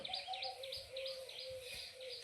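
Birds chirp at a grain-feeding spot, with bright, rapid repeated tweets in a steady rhythm, close and fairly clear, plus softer calls mixed in and no talking.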